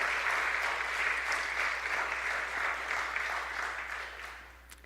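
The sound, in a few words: applause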